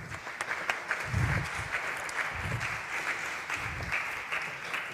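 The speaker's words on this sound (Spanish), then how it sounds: "Un aplauso para Jim." Audience applause at a low-carbon cities world forum greets a speaker, a steady wash of many hands clapping for about five seconds with no talk over it.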